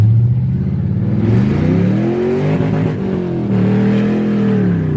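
A 1999 Pontiac Trans Am V8 breathing through long tube headers revs loudly and continuously nearby, its deep rumble climbing and falling in pitch over several seconds.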